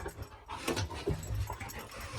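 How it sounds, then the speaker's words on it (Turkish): Dogs roughhousing and biting at each other in play, with panting, short whimpers and scuffling bursts up close, no talk over them. "bakın şu an Bell Reyna'yı ısırıyor yani"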